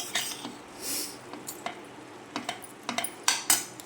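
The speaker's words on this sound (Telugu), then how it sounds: "ఇలా స్టీమ్ చేసుకున్నవన్నీ దీంట్లో వేసుకొని ఒక్కసారి ఇలా తిప్పుకొని అన్నీ కలిసేలా." Steamed sweet potato and chicken salad stirred together in a bowl: a few short, soft scrapes and clinks of a utensil in quiet, uneven strokes.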